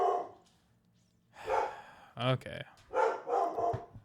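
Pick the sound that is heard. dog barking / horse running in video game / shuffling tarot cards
dog barking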